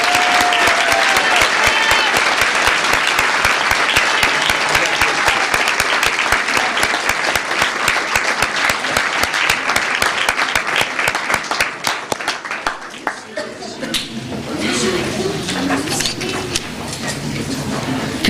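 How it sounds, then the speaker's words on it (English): A school board meeting audience gives a loud, dense round of applause for outstanding young academics, the clapping holding steady for about twelve seconds before thinning and fading into quieter room noise. "a round of applause for these outstanding young academics"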